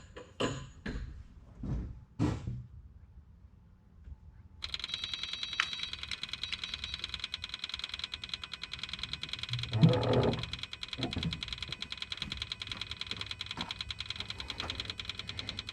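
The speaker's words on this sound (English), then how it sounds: "You can hear the pump is working, pumping air, and we have a solid stream of fuel." Fuel lift pump on a Kubota KX040-4 mini excavator running while it purges air, a steady buzzing whir that starts abruptly after a few clicks and knocks and continues evenly to the end, close and moderately loud.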